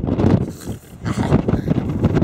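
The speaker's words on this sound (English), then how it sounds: "It's been really, really windy." Strong wind on a coastal path buffeting the microphone, loud gusty rumbling that dips briefly then surges again.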